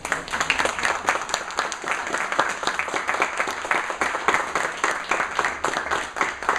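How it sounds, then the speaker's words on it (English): A college audience at an entertainment-careers panel applauds warmly and continuously, many hands clapping close together at a steady level, with a faint high tone running underneath. "my request to all, give them a round of applause"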